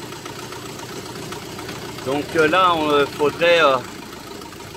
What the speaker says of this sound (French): je viens au niveau du moteur, ça a l'air de secouer. Il y a comme des ratés.